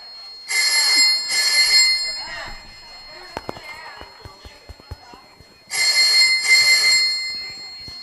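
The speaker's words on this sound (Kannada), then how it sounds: "ಫೋನ್ ಬೇರೆ ರಿಂಗ್ ಆಗ್ತದೆ" A telephone rings in a household scene from a stage drama: two bursts of bright electronic ringing with a gap between, while faint voices and clicks of movement fill the pause.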